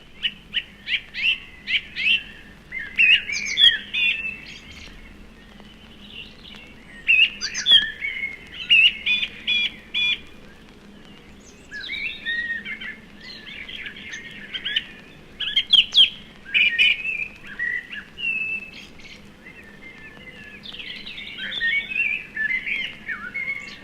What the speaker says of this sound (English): Now blackbirds, thrushes and robins dominate the woodland scene.